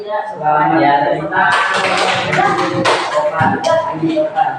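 A group of students claps together in a classroom, a burst of scattered hand claps rising after a moment and continuing under a teacher's voice talking over them.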